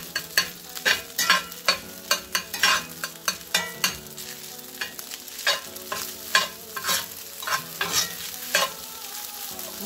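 Ingredients stirred into a sizzling pan while making a tornado omelet omurice, with repeated rhythmic scraping and clacking strokes of a utensil over a constant crackling sizzle.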